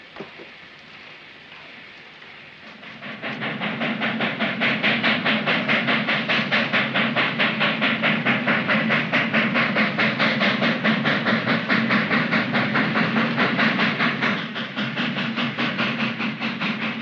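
A steam train gets moving, its rhythmic chugging and rail clatter swelling in after about three seconds and then holding loud and steady, with no voices.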